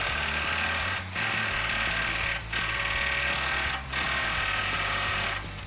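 Pneumatic impact wrench hammering a muffler clamp nut on a 2015-2019 Mustang GT Corsa cat-back exhaust, loud and close in three long rattling bursts separated by short pauses.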